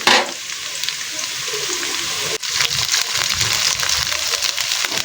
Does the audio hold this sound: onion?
yes